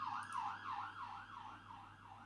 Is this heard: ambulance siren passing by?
yes